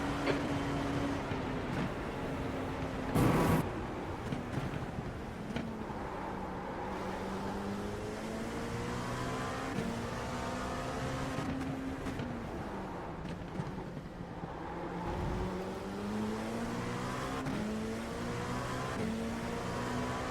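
LMP2 prototype race cars lapping Le Mans in the iRacing simulator: a continuous engine drone rises and falls with gear shifts and passing cars, loud and steady, with one short burst near the start.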